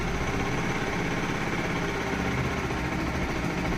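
A Bajaj Pulsar RS200 motorcycle with an electric self-start runs at a steady, loud, close idle, continuous throughout with no clear start moment.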